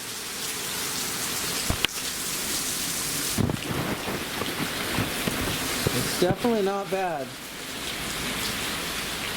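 Steady rain falling outdoors near a gully and private beach by the ocean, a broadband wash running throughout, with people talking over it.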